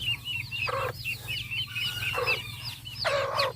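Black Australorp chickens on a farm, several hens clucking close by in short repeated bursts, with a low steady hum of other birds and farm noise underneath and no talking.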